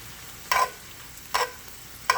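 Chicken pieces, lightly salted, sizzle as they brown in a pan, with a soft steady frying hiss broken by three short, brighter bursts of stirring or scraping.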